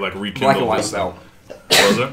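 A single abrupt sneeze bursts out near the end, loud and close, following a stretch of conversational speech from people talking.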